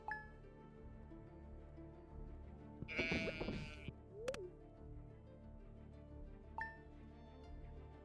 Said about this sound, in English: We do have sheeps to count while we sleep.